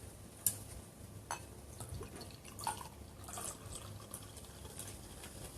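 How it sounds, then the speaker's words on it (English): Home brew fermenting in a vessel gives faint, sparse bubbling pops and drips, heard close in a quiet room with no talking. "It's bubbling. I want y'all to hear."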